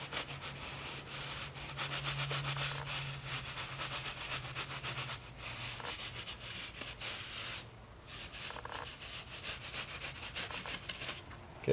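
A trowel scrapes and rubs while mortar is packed into a sloped shower pan around the drain, with repeated gritty rasping strokes close by, a brief pause partway through, and no talking.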